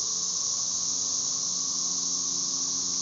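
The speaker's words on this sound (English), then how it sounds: "you can see a few cicadas going, but the hum is something else" Cicadas in a steady, loud droning chorus that fills the whole stretch without a break, an unbroken insect buzz with faint lower tones running beneath it and no voices.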